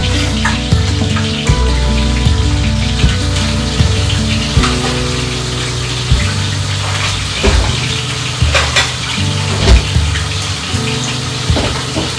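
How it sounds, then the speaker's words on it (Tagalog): Fish frying in a pan sends up a steady, loud sizzle and crackle with scattered pops and clinks of kitchen handling. No one speaks. "So, wait na lang muna natin yung pagpiprito."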